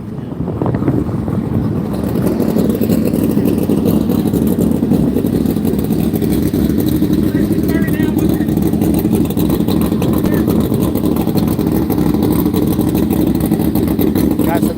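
Sprint cars, 410 and 305 winged and non-wing classes, run hot laps at Texas Motor Speedway with a continuous, loud, low engine drone that holds steady throughout at close range.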